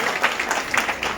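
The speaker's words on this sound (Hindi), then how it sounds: "जोरदार तालियों से स्वागत करेंगे।" Audience applause welcoming a guest at a kitchen gas-safety event run by a gas agency, a dense, continuous patter of clapping from a crowd, steady and moderately loud throughout.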